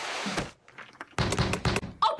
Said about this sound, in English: this fool Black Dynamite kicks the whole door down